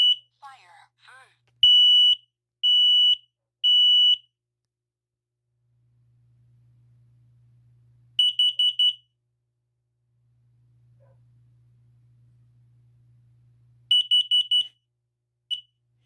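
After its test button is pressed, a smoke alarm gives loud, piercing beeps in short bursts: a few spaced beeps, then rapid clusters after quiet gaps. A brief voice sounds near the start and a faint low hum runs in between.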